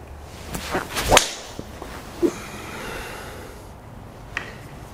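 A sharp, whip-like crack of a Mizuno driver striking a golf ball, with a smaller click later and faint outdoor ambience around it.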